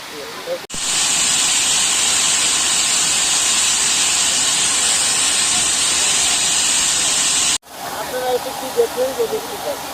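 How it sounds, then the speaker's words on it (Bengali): After a fire on a line in front of a club, gas escapes with a loud, steady, close hiss that lasts about seven seconds and then cuts off, with a quieter background before and after. "এখনো গ্যাস বের হচ্ছে"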